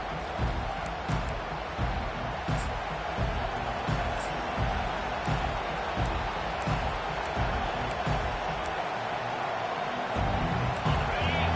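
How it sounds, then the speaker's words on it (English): A large stadium crowd roars continuously at an Ohio State versus Texas football game, a dense wash of cheering and noise at high volume with voices mixed in. "Listen to the crowd energy here in the early going."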